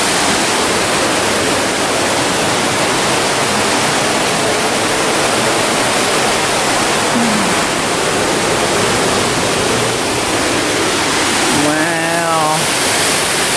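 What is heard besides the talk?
waterfall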